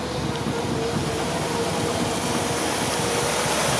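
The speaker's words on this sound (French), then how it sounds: "Le moteur tourne bien, donc il démarre bien" A 1956 Chevrolet 210 Wagon engine idles steadily and close by, giving a continuous, even mechanical hum with no break and no voices.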